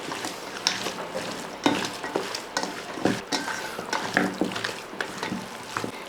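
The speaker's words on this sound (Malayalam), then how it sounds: "ഇത് നല്ലപോലെ ഒന്ന് മിക്സ് ചെയ്തെടുക്കണം. കൈ കൊണ്ട് തന്നെ ഒന്ന് മിക്സ് ചെയ്തെടുക്കണം." Raw chicken is worked by hand with salt and masala, making repeated wet squelching and slapping sounds in an irregular rhythm, close and moderately loud.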